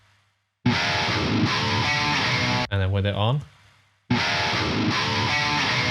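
Chugging palm-muted electric guitar, heavily distorted and tightly compressed with multiband compression between 85 and 180 Hz, plays loud with a short pause and a brief squealing bend before resuming.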